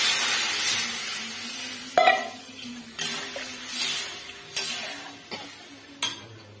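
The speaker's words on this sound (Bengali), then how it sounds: "আমার মশলাটা কষে যাচ্ছে, এটা আমি জল অ্যাড করছি।" Spice masala of salt and turmeric fries in a pan as water is added, heard as a close sizzle broken by several stirring scrapes and knocks about once a second, with no voices.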